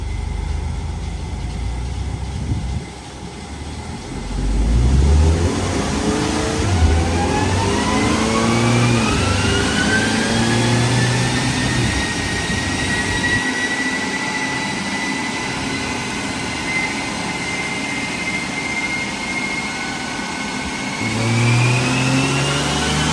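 A naturally aspirated Subaru BRZ engine revs on a dyno in a stage 1 tune pull, a loud close engine note climbing steadily in pitch over many seconds, then easing off and rising again near the end.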